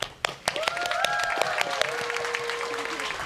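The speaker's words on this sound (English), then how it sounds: "give a big round of applause to the parents who have supported our journey" Graduation ceremony audience clapping for the parents at a school commencement, a full room of hands applauding steadily and fairly loudly for several seconds, with a few brief voices mixed into the crowd.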